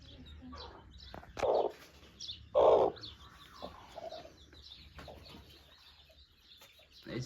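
Aseel champion breed chickens kept in a cage give two short, loud bursts of clucking, with quieter bird chirps in the background.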